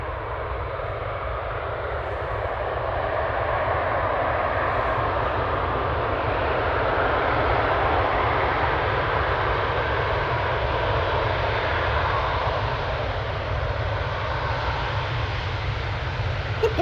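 An airliner roaring down the runway at Manchester Airport on landing with thrust reversers deployed, a loud, steady broadband rush that holds for the whole stretch with no one talking.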